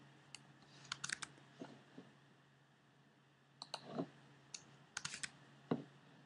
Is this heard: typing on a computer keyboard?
yes